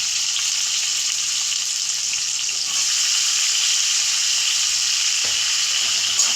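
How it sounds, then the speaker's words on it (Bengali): Chopped onions fry steadily in hot oil, a continuous bright sizzle with a faint crackle running throughout, close and alone with no voices. "এখন আমি এর সঙ্গে পেঁয়াজ কুচি, পেঁয়াজটা একটু লাল লাল করে ভেজে নেব"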